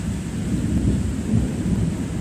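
Thunder rumbles low and heavy through a severe thunderstorm, a sustained rolling boom with rain and leaves rustling underneath, loud and continuous for two seconds.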